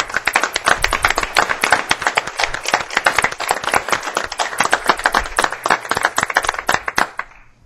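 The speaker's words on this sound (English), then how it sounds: "So let's have a round of applause." A small group claps at a public board meeting, the individual hand claps loud and distinct in a quick, fairly regular rhythm that stops abruptly near the end.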